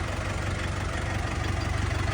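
A Jinma 404 tractor with a cab and a 40-horsepower engine idles close by, giving a steady, continuous low rumble with an even, slightly knocking throb throughout and no voices.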